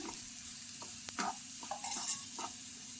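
Chilli, turmeric and coriander powders sautéed in a pan with okra, a soft continuous sizzle under a few scraping stirs of a spoon, close and quiet with no talk.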